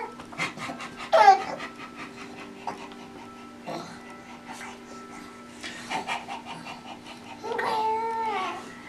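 A dog pants in rapid breathy bursts close by in a home, with a few louder gasps and whimper-like sounds, while a person talks softly in between.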